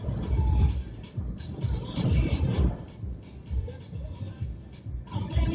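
A train rolls along the tracks with a steady low rumble and rhythmic clatter, heard from on board, its loudness swelling and easing throughout.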